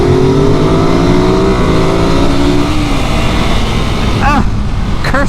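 A 2024 Ducati Monster SP or Scrambler 800 accelerates on a test ride, its engine note climbing steadily in pitch while held in one gear, loud and close, amid heavy wind rush and brief background chirps.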